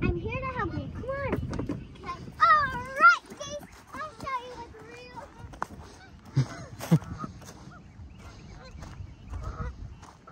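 Geese honk repeatedly in a loose, overlapping series as children chase them near water, with children's voices and outdoor commotion mixed throughout.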